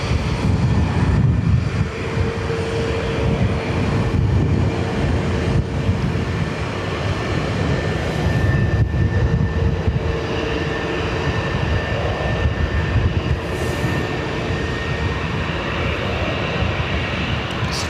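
Aer Lingus A320neo departing Dublin Airport bound for Geneva, a loud sustained jet engine roar with a faint steady whine, continuous for the whole stretch and unaccompanied by speech.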